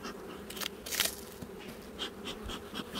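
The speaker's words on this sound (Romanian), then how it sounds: "Am albinele care îmi rămân aici" Honeybees buzz around an open hive during an inspection, a steady close swarm drone with individual bees zipping past the microphone and a few soft handling clicks.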